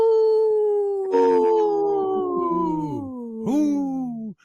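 Wolves howl in long, sustained, sliding calls, with a second voice joining and overlapping, the howls drawn out and fairly close over about four seconds.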